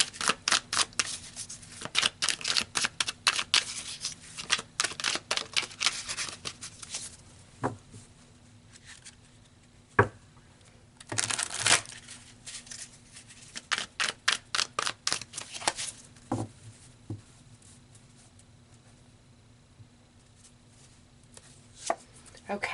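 Tarot cards being shuffled, with a fast run of crisp flicking riffles followed by scattered single snaps and slaps as cards are drawn and laid down, close and fairly quiet.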